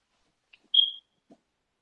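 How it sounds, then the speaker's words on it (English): A fire alarm's low-battery chirp: one short, high electronic beep in an otherwise quiet room, with a couple of tiny faint clicks around it. "Somebody changed that battery in that damn fire alarm."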